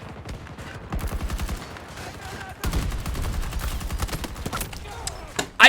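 Rapid bursts of assault rifle fire from a Call of Duty video game, loud, close and repeated in several volleys with short gaps, ending on a sharp blast.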